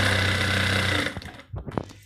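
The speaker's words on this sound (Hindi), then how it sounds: "इस तरीके से मैं इस पर लगा लूँगी सिलाई।" A sewing machine stitches a salwar in a fast, steady mechanical whir, close and loud, then stops abruptly and gives way to a few soft handling bumps and clicks of fabric being moved.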